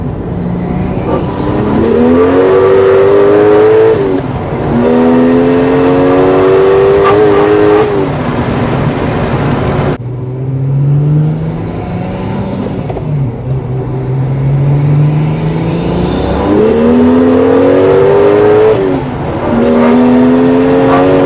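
A BMW E36 fitted with a 1JZ engine pulling hard at full boost, loud and close, with long rising revs through the gears, brief dips between shifts and a brief lull before the pull resumes.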